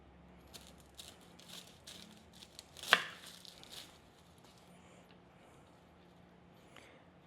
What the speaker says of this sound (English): all I'm going to do is cut the top maybe quarter off of the head so that you expose all your cloves down in there